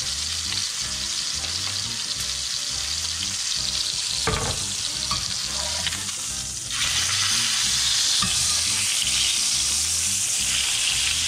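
A sous vide steak sears in a cast iron skillet with a loud, dense, unbroken sizzle, a brief clatter near the middle, and the hiss swelling louder toward the end; close by and no speech.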